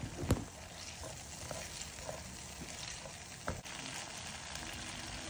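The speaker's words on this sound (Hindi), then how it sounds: "अब इन सबको हाई फ्लेम पर भून ले 45 सेकंड तक" Whole spices (cardamom, cloves, star anise, cinnamon, black pepper) roast in a pan on high flame, making a faint continuous frying hiss with a couple of brief clinks, close by and quiet, no voices.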